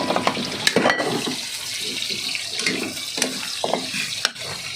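Adobo simmering in a pot is stirred with irregular scraping and sloshing clinks over a soft bubbling background, close and moderately loud, with no voices.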